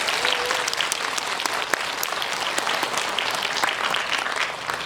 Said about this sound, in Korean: 네, 박수 한번 부탁드리겠습니다.